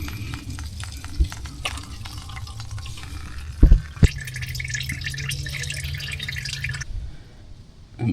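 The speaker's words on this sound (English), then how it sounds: "you can see the oil going out into the pan" Engine oil from a 2024 Ford Transit 350 chassis draining into a drain pan, a continuous trickling, dripping pour close by with a couple of knocks partway through, then fading out.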